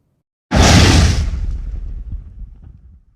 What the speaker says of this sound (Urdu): اور اس کے بعد ایک اور دھماکہ۔